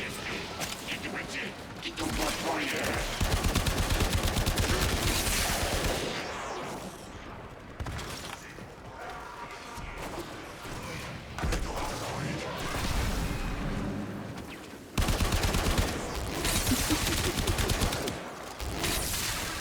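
Video game gunfire, dense rattling bursts of automatic shots and heavy blasts that come and go in loud waves across the whole stretch, with someone talking over the shooting.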